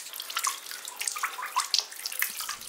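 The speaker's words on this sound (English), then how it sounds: "And we collect this hand washing water in a bucket" Hand-washing water runs and splashes into a bucket in The Gambia, a continuous close trickle with uneven bright spatters and drips.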